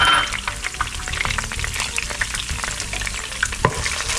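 Garlic sizzles in a hot pan for a Spanish chicken stew, stirred constantly. The crackle is dense and steady, with scraping stir strokes throughout and no talking.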